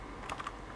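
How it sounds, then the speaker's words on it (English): Quick keystrokes on a membrane computer keyboard, three soft muted clicks in rapid succession over steady background hiss, with no voices. "Does this membrane keyboard not get all key presses"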